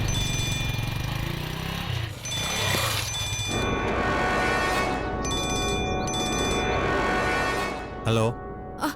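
A telephone ringing as a call is placed in a Tamil TV serial scene, steady repeated electronic ring tones sounding close and loud, partly under talk and background noise, ending with a few short clicks.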